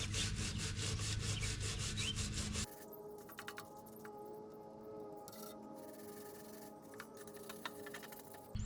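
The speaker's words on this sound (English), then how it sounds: "I'm just going to clean everything off and get rid of some of this paint." Loud, steady abrasive scraping for about two and a half seconds as chipped paint and rust are cleaned off an RV propane tank, then softer intermittent scraping and rubbing continues with no talk.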